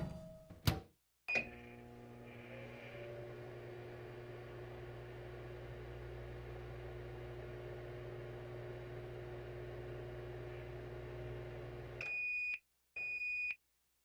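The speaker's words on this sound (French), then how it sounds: "on va mettre ça dans le micro-ondes 30 secondes." A microwave oven runs with a steady low electrical hum for about eleven seconds, then gives two sharp electronic beeps at the end, with a door clunk near the start.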